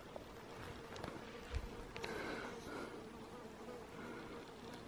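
Insect buzzing outdoors in high country during a sika deer hunt, a faint steady drone that swells and fades as it passes near, with broadband wind-like hiss and no talking.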